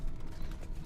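Lift machinery in the video game Deep Rock Galactic: Rogue Core gives a low, steady mechanical rumble with faint ratcheting, gear-like clicks, continuous and moderately loud over its brief span.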